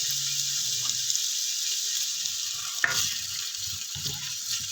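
Green beans tipped into boiling water to blanch for chopsuey, a steady bubbling hiss with a soft splash and some clattering of the pot, no talking.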